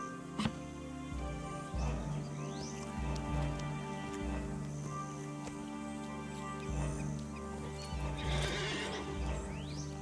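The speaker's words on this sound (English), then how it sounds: "There's the second horse right there." Hooves clatter in a steady gallop in the video game LOTRO, and a horse neighs loudly near the end, over a constant droning background.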